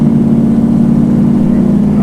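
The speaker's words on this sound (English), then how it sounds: "Listen to that engine." A 1968 Pontiac Firebird engine gives a steady, loud, deep rumble heard up close while the car drives.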